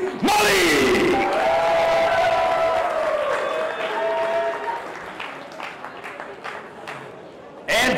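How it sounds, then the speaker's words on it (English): A boxing crowd at a light middleweight fight night roars and applauds as a fighter representing India is introduced, a loud burst that swells at once and then slowly fades, with a fresh surge of cheering at the end. "please make some noise for Sandeep Malik"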